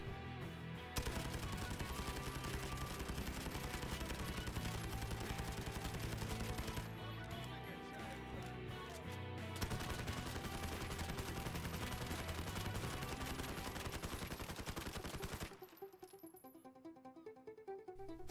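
Rapid automatic bursts from a PP-19 Bizon submachine gun in Modern Warfare, loud and continuous for about fifteen seconds over a dense game soundscape, then cutting to a quieter tail.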